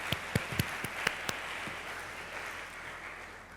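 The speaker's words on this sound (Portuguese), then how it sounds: "Vou pedir uma salva de palmas para a Renata Dias." Applause from an audience at a Portuguese-language event. A handful of sharp, distinct claps ring out in the first second, then settle into a softer, steady wash of clapping that fades slightly toward the end.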